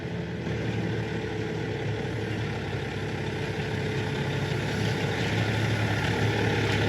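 A log truck's diesel engine idles steadily nearby as it maneuvers at a log home building site, a continuous low rumbling drone with no break.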